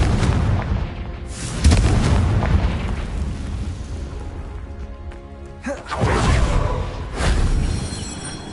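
Fire spell explosions from the video game Hogwarts Legacy, several loud, deep booming blasts with crackling bursts that recur across the stretch in heavy, close succession.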